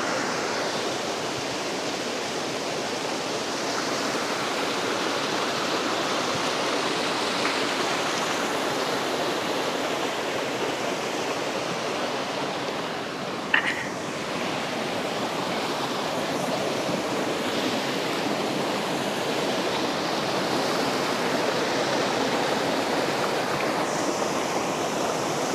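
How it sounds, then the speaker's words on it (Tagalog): At the top of Catmon Falls, water rushes in a steady, dense roar with no breaks. The sound is loud and broadband and holds evenly throughout, with a single brief knock partway through and no voices. "Ito yung pinakaibabaw ng Catmon Falls."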